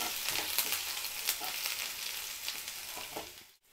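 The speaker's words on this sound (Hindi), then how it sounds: "यहीं पे मैं डालूँगी अदरक और इसे हमें 1 से 2 सेकंड के लिए फ्राई करना है हाई फ्लेम पे" Ginger and garlic frying in hot oil over a high flame, a steady loud sizzle with crackling pops throughout, ending with a brief sudden drop.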